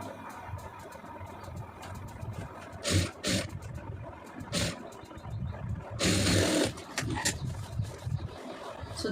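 A sewing machine stitches a boat neck in bursts of whirring mechanical running over a busy background, with short louder spurts where the motor speeds up.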